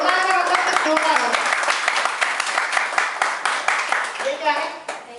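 Loud, steady clapping comes from an audience at a Modicare presentation, applauding a volunteer who has stood up to help. A voice talks over the applause at the start and again as it fades near the end.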